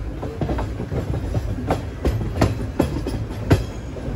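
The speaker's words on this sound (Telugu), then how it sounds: "సో ఇప్పుడు షాలిమార్ అయితే వెళ్తుంది కోయంబత్తూర్ నుంచి ఆ ట్రైన్" The Shalimar–Coimbatore train passes close, a loud rolling rumble with rhythmic clickety-clack of wheels over rail joints repeating roughly every half second.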